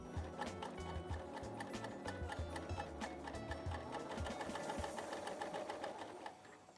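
A sewing machine with a coverstitch hemmer attachment test-sews in one continuous run of rapid, rhythmic mechanical clatter, close and steady, then slows and stops near the end.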